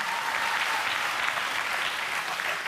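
A studio audience applauds steadily and loudly after a children's acrobatics act at the Bulgaria's Got Talent 2015 semi-finals, with dense, even clapping and no talk.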